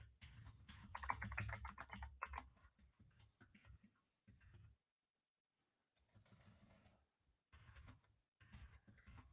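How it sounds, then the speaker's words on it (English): Typing on a computer keyboard, bursts of fast close key clicks broken by short silent pauses, quiet and with no talk. "So let me get this typed up."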